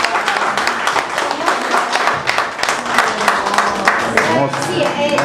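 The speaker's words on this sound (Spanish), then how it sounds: "Un aplauso." An audience at a Señor de los Milagros religious procession gathering in Madrid claps together, a dense, loud burst of applause lasting several seconds with voices mixed in.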